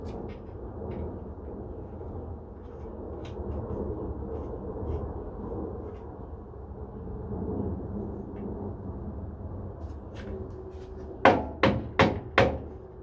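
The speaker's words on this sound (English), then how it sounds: "Now just to put that castle nut back on." A castle nut is fitted back onto a Kawasaki KX500AF supermoto build, with a low steady workshop rumble followed near the end by four sharp, close metallic hammer-like knocks in quick succession.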